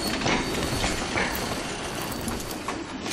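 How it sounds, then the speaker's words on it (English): A freight train loaded with explosive material in Crysis 3 rumbles along, a dense, continuous roar of wheels and rattling cars with faint clacking, loud and steady throughout. "This train is full of highly explosive material."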